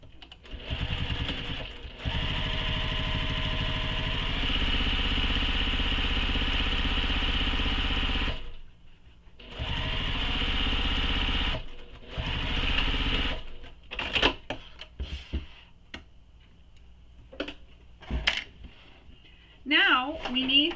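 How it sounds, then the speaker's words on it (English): A sewing machine stitches along the bottom fold of a tote bag. It runs in one long, steady whir, then a second sustained run, before breaking into shorter stop-start bursts near the end. "So we're going to stitch along this bottom edge using the seam allowance given in the pattern."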